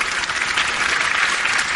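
Audience applause at the close of a conference, a steady dense wash of many hands clapping, loud and close throughout with no break.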